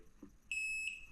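A torque wrench beeps as it reaches a set 25 newton-meters while tightening a bolt on Fox 38 suspension forks, giving one steady, high, close electronic tone lasting about half a second.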